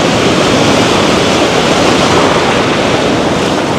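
Ocean surf breaking on a clean sandy beach, a loud, dense, continuous roar of waves with wind buffeting the microphone throughout.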